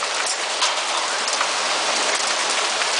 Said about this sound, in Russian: 1 июля град с дождем.